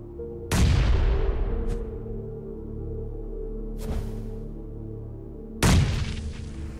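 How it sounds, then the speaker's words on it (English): Grenades go off in PUBG, two heavy booms several seconds apart with a softer distant blast between them, each decaying into a rumbling tail. "I should be able to toss nades from here, Loki"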